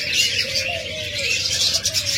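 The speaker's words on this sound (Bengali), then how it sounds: "এখানে রয়েছে এক জোড়া পিঞ্চ পাখি" A pair of caged finches chirps in a steady stream of high, thin tweets. The calls sit over low background noise, and no one speaks.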